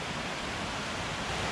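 Mountain valley stream in a hiking area, a steady broadband rush of flowing water, close and unbroken.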